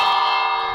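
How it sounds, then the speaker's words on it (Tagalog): A doorbell in a video game house gives a single clear, sustained bell-like chime that rings evenly and fades slightly, heard alone. "Siyempre may hindi mawawala yung doorbell."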